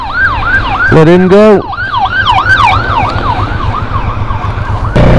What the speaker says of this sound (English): we've got an ambulance coming round